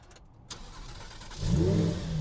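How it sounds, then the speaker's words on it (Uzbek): A car engine cranks and catches, then settles into a louder, steady idle as it warms up, heard close by with no talking. "Kutib turing, men bitta qizitib kelay mashinani."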